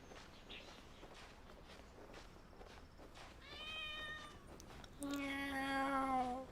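In the video game Genshin Impact, a kitten gives a couple of clear, close meows near the end, following soft footstep-like game sounds with no talking.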